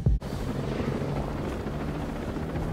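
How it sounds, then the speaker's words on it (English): A video-game helicopter's chopping rotor drones steadily at a distance, low and continuous after a brief thump at the start. "I hear a helicopter."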